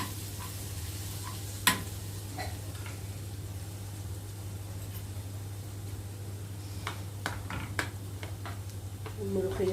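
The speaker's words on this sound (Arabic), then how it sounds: "ونقلب بقى التومة مع الكزبرة" Garlic and coriander frying in a pan for molokhia, a steady low sizzle with occasional scrapes and clicks of stirring, close and moderately quiet, with no talk over it.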